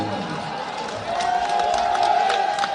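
A large crowd cheers and chants "Modi Modi" at a political rally, the roar swelling louder partway through and holding steady as a dense wall of voices with scattered whoops.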